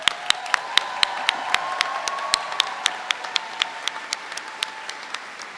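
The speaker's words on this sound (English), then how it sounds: "I'm going to ask the class of 2028 to stand once again for one last rousing round of applause" A medical school White Coat Ceremony audience applauds as the class of 2028 stands, with sharp individual claps ringing out over a steady wash of clapping that slowly thins and softens.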